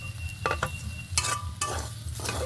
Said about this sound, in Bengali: একটু সময় নిয়ে ভালো করে কষিয়ে নিতে হবে